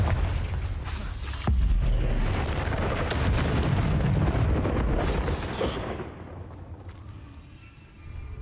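A Confringo blasting spell detonates in Hogwarts Legacy: a loud, heavy boom with rumbling low-end that sustains for several seconds before fading into quieter ambience, with further sharp impacts layered in.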